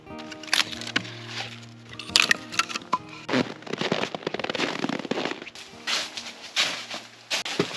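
Wood fire in a Caminus M tent stove inside an RBM Outdoors UP-5 tent in extreme cold, with sharp crackles and pops scattered irregularly over a low steady background, close and moderately loud.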